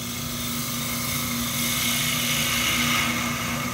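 A wood lathe turning a wooden top under a Thompson 3/8 inch detail gouge gives a steady, continuous whirring drone with a faint tonal hum, unbroken from start to finish.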